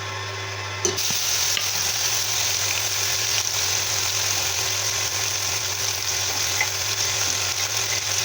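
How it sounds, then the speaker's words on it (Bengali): Steady, close sizzling of whole cardamom and cinnamon frying in hot oil, a continuous crackle that runs the whole time with a brief clatter near the start. "তেলে এলাচ আর দারচিনি ফোড়ন দিয়ে দিলাম, এটা ভালো করে একটু ভেজে নেব"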